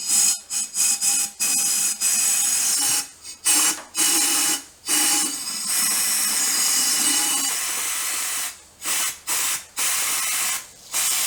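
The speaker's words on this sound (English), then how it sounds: "So let me put some air on and put my finger over the hole." Short bursts of compressed air hiss into the cylinder head of a Triumph engine, a run of quick blasts followed by one long sustained spray, then more clipped bursts, loud and close with no talk.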